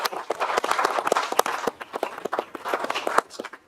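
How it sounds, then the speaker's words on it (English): Scattered, uneven clapping from a small council meeting gathering, sharp individual claps fairly close, irregular and modest rather than a full roar. "I don't know if you could give him applause"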